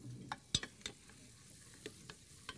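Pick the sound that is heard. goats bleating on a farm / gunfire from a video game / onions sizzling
onions sizzling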